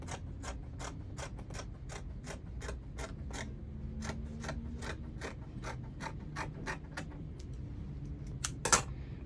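Scissors cut a fabric pattern piece for a children's dress, making a regular series of close, crisp snips that end in a louder clack, with no talking.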